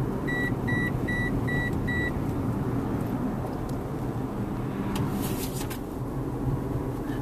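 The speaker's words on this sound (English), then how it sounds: "one of the things I really like is the lane departure warning." Lane departure warning in a 2016 Toyota RAV4 SE sounds five short, evenly spaced electronic beeps over steady road and engine noise, then the cabin drone continues alone.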